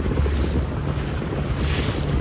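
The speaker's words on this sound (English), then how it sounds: "This is the windiest part of the day." Strong wind roars steadily over the microphone aboard a 29er sailing dinghy during a regatta, a loud continuous rushing blast with water noise beneath and no voices.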